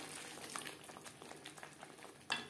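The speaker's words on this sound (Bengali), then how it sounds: "যেই জারে করে আমি টমেটোটা বেটেছিলাম সেটা ধুয়ে আমি জল অ্যাড করলাম" Water is added to a pan of Bengali vegetarian cabbage curry with tomato paste, potatoes, salt and turmeric, bringing a soft, continuous bubbling simmer, with a brief louder splash near the end.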